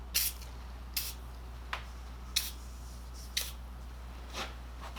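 Degreaser is sprayed in short, sharp bursts from a spray bottle, about six hissing spritzes spaced roughly a second apart over a quiet low hum, with no talking.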